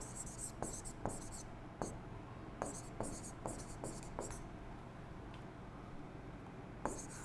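Pen or pencil scratching across paper by hand, a run of short, faint strokes with brief pauses, quiet and close, while a soft voice talks in Hindi at a low level in the background.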